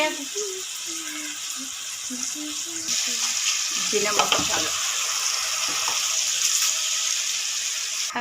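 Masala frying in ghee and sunflower oil sizzles steadily, and the sound sharpens and grows louder as tomatoes are added partway through, with a voice talking over the pan at the start.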